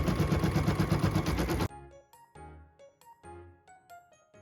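A sewing machine stitches a tack-down line on an embroidered Christmas ornament, giving a rapid, continuous mechanical chatter for about a second and a half, followed by quieter, separate clicks and light metallic ticks.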